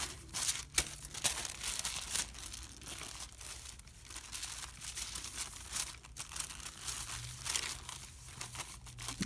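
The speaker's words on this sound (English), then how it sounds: "I'll put a little bit of tissue paper down there across the bottoms and the bottom and the top." Tissue paper crinkles and rustles close up in irregular bursts as it is laid over the ends of a DIY rain stick tube, fairly quiet, with no talk.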